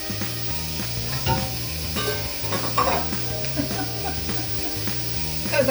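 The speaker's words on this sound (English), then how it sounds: "I'm going to add in my meat to get it brown" Meat browning in a pot on an induction cooktop gives off a steady sizzle, broken by occasional scraping and clinks of stirring, with a faint tonal hum underneath.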